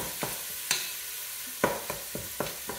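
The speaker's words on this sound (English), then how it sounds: "in this pan, I am browning the ground turkey" Ninety-nine percent fat-free ground turkey breast browns in hot olive oil for spaghetti sauce, with a soft sizzle underneath and several sharp spatula scrapes and taps against the pan.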